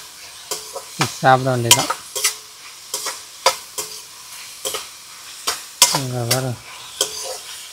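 Onions sautéing in a pan in a rural thatched outdoor kitchen during crab cooking: rhythmic spoon scrapes and clinks over a continuous sizzle, close and fairly loud, with a voice talking briefly at two points.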